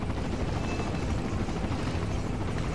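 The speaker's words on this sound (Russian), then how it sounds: "Какой-то медленный вертолет прям." Helicopter from the video game Resident Evil 4, a steady dense rotor drone that fills the whole short stretch at constant loudness, heard alone without talk.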